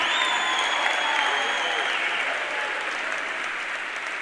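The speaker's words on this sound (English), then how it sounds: "Give yourselves a round of applause." Audience applause at a motivational keynote, a dense, steady wash of clapping that stays loud throughout and eases off only slightly toward the end, with no talk over it.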